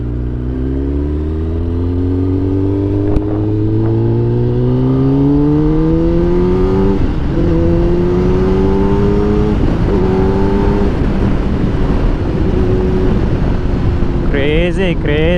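A Kawasaki ZX10R Honey Comb Edition superbike is ridden hard, its engine climbing steadily in pitch as it accelerates, easing at gear changes, then rising again, loud and close under wind rush, with a sharp rev near the end.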